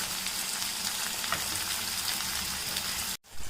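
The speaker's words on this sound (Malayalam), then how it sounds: "ഇത്രയും കൂടെ നമുക്ക് നന്നായിട്ടൊന്ന് വഴറ്റാം" Chopped onions sauté in hot oil in a pan for chicken curry, giving a steady, close sizzle that runs unbroken for about three seconds before cutting off abruptly.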